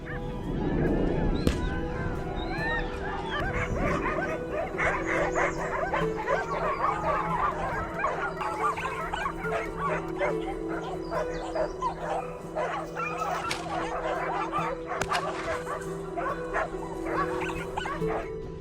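Hunting dogs bark and yip in excited bursts while holding a wild hog at bay, a dense, continuous chorus of overlapping calls at moderate distance.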